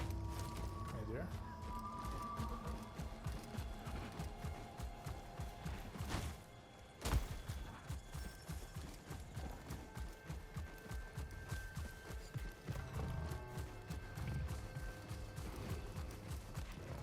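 Rhythmic horse hoofbeats in the video game Star Wars Jedi: Survivor clip-clop steadily throughout, with a brief pause midway, under a dense layer of game music and ambient sound.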